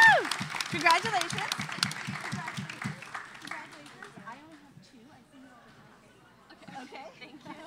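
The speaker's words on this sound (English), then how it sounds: "can we have another round of applause for our winners" A crowd claps and cheers loudly at first, the applause thinning and fading into scattered chatter and murmuring voices.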